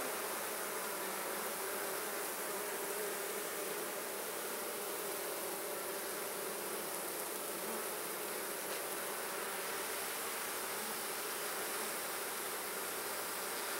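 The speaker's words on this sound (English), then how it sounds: "Decent number of bees in this nuke." Honey bees in a nucleus hive opened for inspection, a dense, continuous close-up buzzing that holds steady throughout with no voices.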